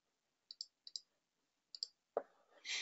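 Sharp computer mouse clicks, two quick pairs early and another pair later, faint and isolated against silence, followed by a louder brief rustle and hiss as work proceeds in BIM model-checking software.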